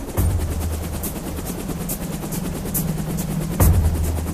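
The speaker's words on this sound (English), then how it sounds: "another helicopter is about to leave an oil platform." A helicopter runs on an oil platform before departure. A loud, steady rotor drone with rhythmic low thumping fills the whole clip, and a brief sharper burst comes near the end.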